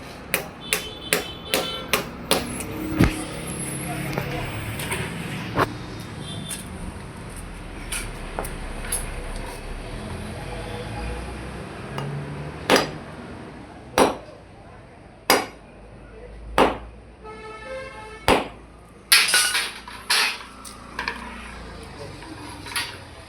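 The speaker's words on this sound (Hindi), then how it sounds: "थोड़ी कील टेढ़ी है तो हम उसको सीधा कर लें।" A bent nail being hammered straight, a series of sharp metallic hammer strikes in irregular bursts, some quick clusters and some single blows, close and loud with quieter handling noise between.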